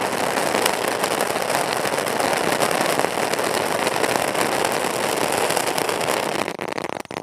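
A car-shaped Diwali firecracker fizzes and crackles loudly and without a break for about seven seconds, then cuts off abruptly near the end.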